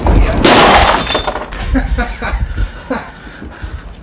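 Glass in an old hundred-year-old door shatters in a loud, close crash that tails off into tinkling fragments, followed by a voice and chuckling.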